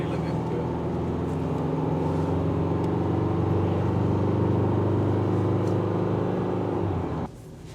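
A tow car pulling a caravan accelerates on a road. A steady, loud engine rumble and road drone continue for several seconds and then drop off sharply near the end. Voices are faintly present.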